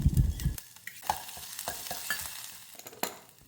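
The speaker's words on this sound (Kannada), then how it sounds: "ಈಗ 1 ಸ್ಪೂನ್ ಅಲ್ಲ ಬೆಳ್ಳುಳ್ಳಿ ಪೇಸ್ಟ್ ಹಾಕ್ತಾ ಇದ್ದೀನಿ." Ginger-garlic paste fries with cumin and a dry chili, starting with a loud sizzling burst as it hits the hot oil, then settling into a crackling hiss with spoon-stirring scrapes up close.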